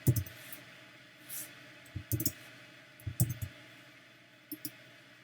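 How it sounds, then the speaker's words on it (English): Computer mouse double-clicking a file: several short, sharp clicks, some in quick pairs, spaced across a quiet background with faint hum. "let me double click it"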